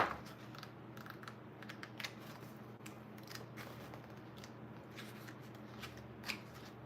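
Tarot cards are shuffled and flicked through close up while one card is searched for, giving a run of quick, dry papery slides and soft snaps in irregular bursts.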